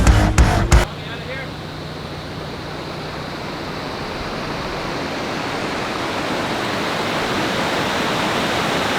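A glacier-melt river rushes past steadily, a broad, loud, continuous roar of water heard up close after a brief burst of mechanical noise at the start.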